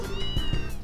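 Cat named Antoine meowing in the game Trails in the Sky, a single close, clear drawn-out meow over a soft background hum, loud and alone.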